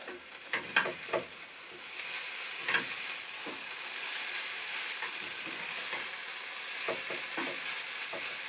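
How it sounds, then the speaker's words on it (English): Hash browns frying in a pan on a stove in an off-grid log cabin, a steady soft sizzle broken by occasional scraping taps from a utensil, close and fairly quiet, with no talking. "Hash browns are browning up nice."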